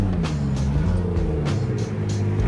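A car's engine drones and rumbles steadily on a Japanese track at night, a sustained close motor sound with slight shifts in pitch and no talking.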